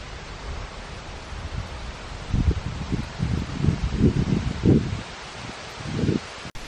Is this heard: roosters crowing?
no